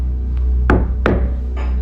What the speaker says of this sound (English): Following the knocking sounds